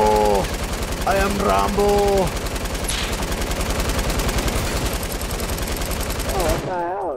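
Rapid light machine gun fire in a first-person shooter, a dense continuous burst running nearly the whole stretch at close range, with players shouting excitedly over it before it cuts off at the end.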